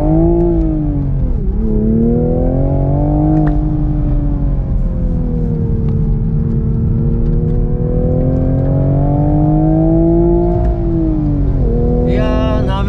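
A manual Toyota GR Supra revs smoothly on a circuit, its loud engine note climbing, dipping and climbing again through shifts, continuous and close throughout, with a short different sound at the very end.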